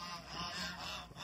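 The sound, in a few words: geese honking at a duck farm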